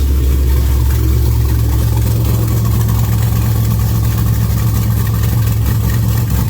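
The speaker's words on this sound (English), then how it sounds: "now you can hear the truck no longer has open headers" A 1966 Chevy pickup truck engine idles steadily and close through two MagnaFlow exhaust tips instead of open headers, its deep exhaust rumble holding a constant low throb without revving.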